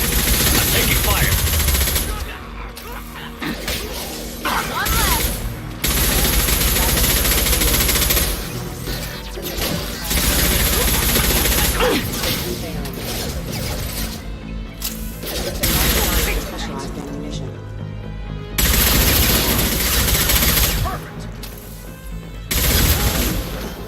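Sustained automatic gunfire and impacts in the video game Mass Effect 2, loud and near, come in long bursts with brief lulls, with voices speaking over the combat at times.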